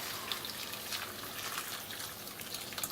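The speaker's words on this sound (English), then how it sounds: "we are going to pour some boiled water" Boiled water poured from a kettle over noodles in a bowl, a soft continuous splashing trickle heard close up and fairly quiet, with no voices.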